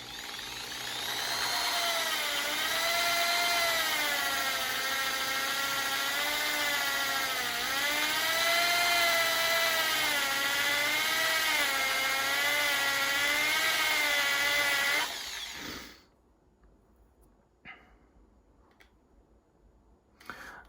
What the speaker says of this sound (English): So I'm holding the drill against my leg pretty firm, just so I can apply a little bit more pressure on the tire.